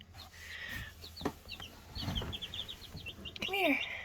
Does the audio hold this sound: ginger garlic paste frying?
no